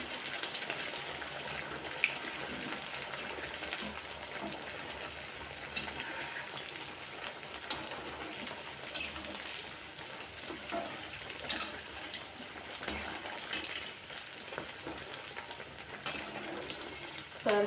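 Four sabudana vadas frying in hot oil over a high flame, a steady soft crackle and sizzle of bubbling oil throughout, fairly quiet and alone.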